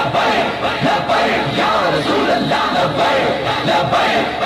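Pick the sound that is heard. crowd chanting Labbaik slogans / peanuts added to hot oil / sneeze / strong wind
crowd chanting Labbaik slogans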